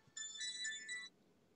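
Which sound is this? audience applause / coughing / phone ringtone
phone ringtone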